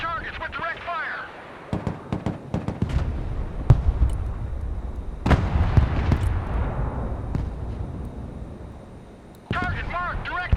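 Mobile artillery firing directly in Broken Arrow: several sharp booms and cracks spread across the clip, one heavy blast rumbling out, under radio chatter and game voices.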